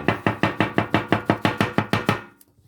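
A knife chopping mushrooms on a cutting board, about a dozen crisp, evenly spaced close knocks in quick rhythm before stopping, with no talking.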